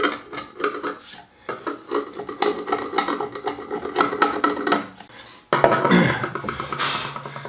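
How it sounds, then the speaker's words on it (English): Dried glue squeeze-out being chipped and scraped off a wooden solid-body guitar glue-up, a run of close, rasping scrapes in an uneven rhythm, with a louder, sharper burst of scraping near the end. "We need to chip away the glue spill out or squeeze out."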